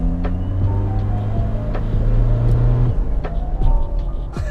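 A 2016 Toyota Fortuner VRZ with full modifications accelerates hard at high speed on a road, giving a steady, close, low engine rumble with a rising drone and no talk over it.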